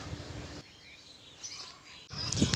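Birds chirp faintly in the background outdoors among flowering plants, with soft, scattered high calls growing a little louder and denser toward the end.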